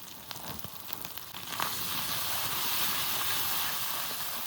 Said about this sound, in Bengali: আদা আর পেঁয়াজ একটু ভেজে নিয়েছি, এবার জিরে বাটা দিয়ে দেবো। তার সাথে সাথে দিয়ে দেবো শুকনো লঙ্কা বাটা।